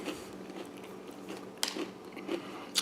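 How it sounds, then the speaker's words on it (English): Quiet crunchy chewing of whole-grain honey cereal, a few crisp bites and crackles spread over a few seconds, close up, with no talking. "Pop them in your mouth, Mike."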